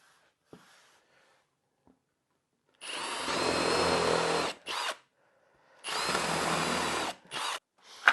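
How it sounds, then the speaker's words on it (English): A power drill bores countersink holes into a wooden saw guide, two loud sustained bursts of whirring, each followed by a short spin, separated by quiet gaps with faint handling clicks. "I'm going to drill some countersink holes all the way along, about every 12 or 14 inches."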